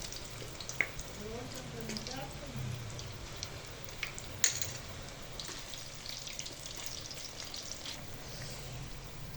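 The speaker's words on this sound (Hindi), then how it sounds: "अब हम और पकौड़े डालेंगे फ्राई करने के लिए" Pakoras deep-frying in hot oil for Punjabi-style kadhi pakora, giving a steady moderate sizzle and crackle throughout with a few sharper pops, while a voice talks faintly underneath.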